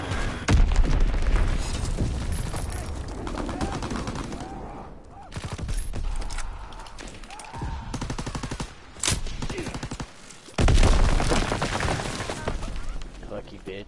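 Bombing run in Call of Duty, with dense bursts of explosions and gunfire-like blasts arriving in waves, loud and close, broken by brief lulls, and game voices talking over the din.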